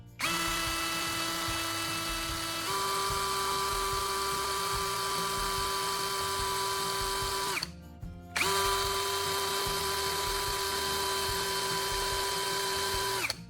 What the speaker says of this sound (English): Using a drill for this step is clearly the right choice.